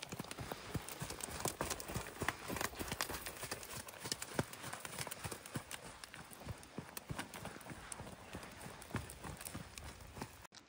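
Horse hooves trot in a steady clip-clop rhythm during riding training, close and continuous over a noisy outdoor background, with brief faint talk.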